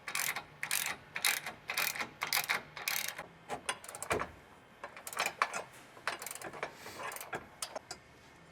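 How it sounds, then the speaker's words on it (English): A hand ratchet tightens bolts on a 2022+ Toyota Tundra bed step bracket, giving bursts of rapid, close clicking strokes with short pauses between pulls. "Now I'll go ahead and tighten these down."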